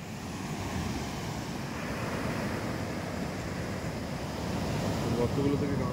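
Gentle surf washes continuously on a quiet, uncrowded beach, low and steady with some wind rumble and no clear talk.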